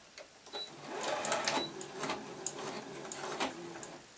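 A home sewing machine runs a short line of stitches across the end of a fabric chicken toy, its quick mechanical whir rising and easing in brief bursts close by.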